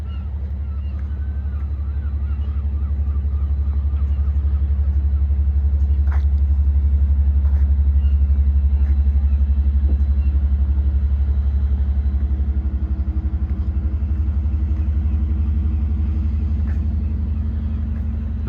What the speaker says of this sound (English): That's the engine of the Yorkshire Belle, you can hear. It's a very smooth sounding diesel, that, isn't it?